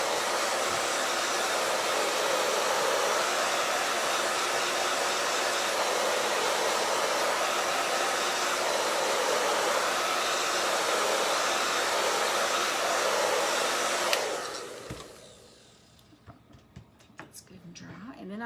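A hair dryer blows steadily and loudly over a craft board freshly painted copper shimmer, then cuts off abruptly near the end, leaving faint handling noises.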